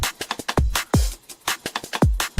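MIDI drum loop of kick and hi-hat: booming kicks land between crisp, rapid hi-hat ticks in a repeating pattern, loud and without voices.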